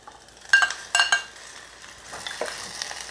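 Chicken pieces frying with softened onions in a handi, with a few sharp scraping and clinking spoon strokes against the pot over a low sizzle, close by.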